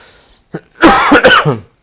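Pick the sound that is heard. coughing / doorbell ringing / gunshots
coughing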